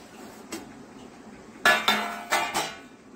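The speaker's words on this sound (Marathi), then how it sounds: "आता मी वरचं झाकण काढून घेते।" A metal steamer lid lifted off a pot in a home kitchen while making a steamed snack: a faint tap, then a cluster of loud metallic clanks and rattles close by.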